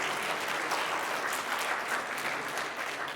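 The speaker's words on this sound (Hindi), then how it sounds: "तालियां जोर से बजनी चाहिए।" Loud, steady applause fills a children's Bhagavad Gita shloka chanting competition, dense clapping from an audience running continuously without voices.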